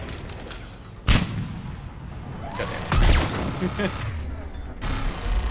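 Grenade blasts and gunfire in the Mass Effect 3 video game, with two loud booming impacts and scattered shots under a voice talking over the combat.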